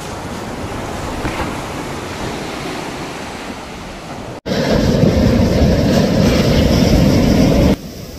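Sea surf rolls onto the beach at Malibu, California, a steady loud wash of waves and wind buffeting the microphone, with no voices.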